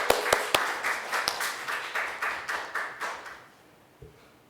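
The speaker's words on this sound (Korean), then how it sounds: "할렐루야 하고 박수하겠습니다." A church congregation at a Wednesday praise service claps in a steady rhythmic beat, a dozen or so even claps from a group in a reverberant hall, slowing and fading out near the end, with a brief voice after.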